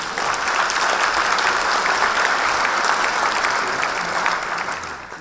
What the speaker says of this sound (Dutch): dank voor het applaus